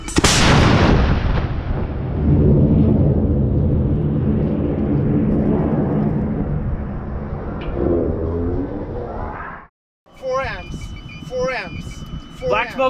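Borealis rocket motor roaring at launch, a loud sustained broadband blast with crackle that persists for nearly ten seconds, then cuts off abruptly, followed by quieter background sounds.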